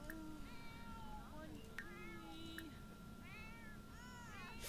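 A pet cat in The Sims 4 meows repeatedly, several short, bending cries spread across the stretch, fairly close and clear above a constant low game background hum.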